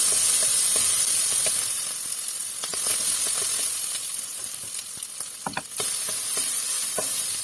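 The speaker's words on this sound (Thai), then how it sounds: "ผัดให้หอมเลยนะคะ" Pounded chili and garlic stir-fry in a hot pan for a Thai fried eggplant with tofu dish, giving a steady close sizzle with scraping spatula strokes and clinks running throughout, with no talking.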